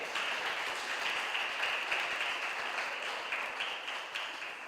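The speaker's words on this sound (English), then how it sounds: "please clap them." An audience claps for schools coming on stage at a spelling competition event, a steady, fairly faint wash of many hands heard from a distance that slowly tapers toward the end.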